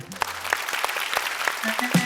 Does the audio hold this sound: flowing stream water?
no